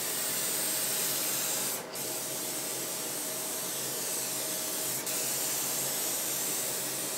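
Spray gun steadily hissing paint onto a car part, a continuous close, loud spray with two brief pauses in the flow.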